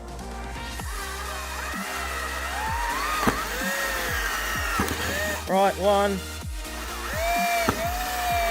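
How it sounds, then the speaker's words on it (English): A power drill bores a pilot hole while fitting a manual roller shutter on a GWM Cannon ute, spinning up in short rising whines between pauses as a voice counts along nearby. "Now we're ready to drill."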